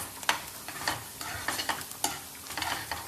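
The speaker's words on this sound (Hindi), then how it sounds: "ये है कांदा जो फ्राई हो रहा है, इसमें रेड चटनी डाली हुई है हमने।" Chopped onion fries in a pan with red chutney, crackling and sizzling close up while a spoon stirs and scrapes in irregular bursts.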